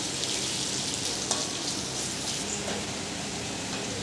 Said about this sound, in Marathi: मी बाकीचे फ्राय करून घेते, याच पद्धतीने फ्राय करून घेते।